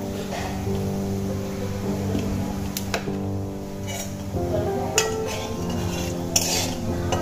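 Whole cinnamon stick and small green cardamom pods frying lightly in oil, a steady low sizzle running throughout with occasional metallic clinks of a stirring spoon against the pan.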